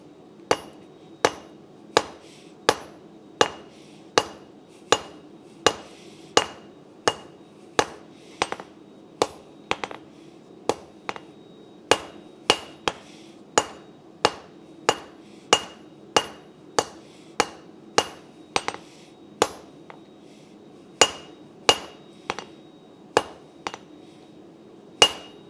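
Hammer blows on hot metal at a forge while tapering a piece, ringing out sharply in a steady, evenly spaced series of a few dozen strikes, each with a short metallic clink, close and clear with no talking.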